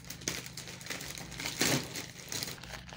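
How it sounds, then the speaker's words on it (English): Plastic gift package from Jumia being cut and torn open with a knife, giving close crinkling and tearing with irregular scratchy bursts and a louder rip in the middle. "So unwrapping, I'm using a knife, so yeah, let me unwrap it"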